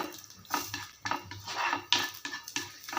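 Horse gram dry roasted in a pan makes close, repeated rattling scrapes as it is stirred, in irregular bursts with no talk.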